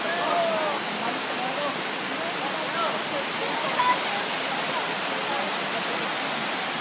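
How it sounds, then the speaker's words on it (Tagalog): A waterfall's rushing water makes a steady, dense roar throughout. Faint voices can be heard under the noise. "Ang ganda po ng falls dito mga kaibigan."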